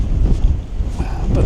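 Strong autumn wind buffets the microphone on an exposed Lake District fell near Fairfield above Grasmere, a continuous loud low roar that rises and falls in gusts throughout.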